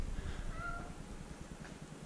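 A cat meows a couple of times, short drawn-out cries over a steady low mechanical hum, fairly faint and a little distant.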